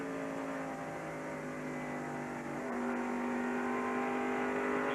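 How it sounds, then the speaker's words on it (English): NASCAR Winston Cup stock cars, including a Pontiac and an Oldsmobile, racing in the 1990 GM Goodwrench 500, heard as a steady, distant engine roar with a slight swell toward the end, no talk. "Mark has pulled away now from Sterling."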